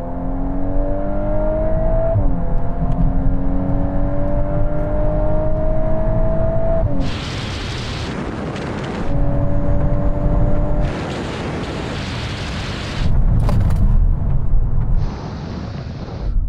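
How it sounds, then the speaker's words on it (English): A VW Golf R and a Honda Civic Type R accelerate hard in a third-gear rolling race from 50 mph, engine notes rising in pitch with gear-like steps, interrupted by loud bursts of wind buffeting near the microphone. "let's take the launch out of the equation by doing a rolling race in third from 50 miles an hour"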